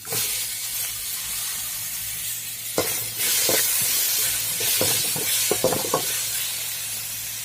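Onions and tomatoes frying in a pan, producing a continuous hissing sizzle with several sharp clicks and scrapes of a utensil against the pan, and no voices.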